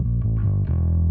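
Bass played through an Ampeg SGT-DI preamp cranked into fuzzy distortion, a short, loud, thick and buzzy run of sustained low notes with gritty overtones.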